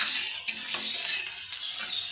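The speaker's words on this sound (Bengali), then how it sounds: "পেঁয়াজ কুচি দিয়ে দিলাম।" Chopped onion frying in hot mustard oil gives a loud, continuous sizzle as it is stirred, with soft scraping of the spoon in the pan and no talking.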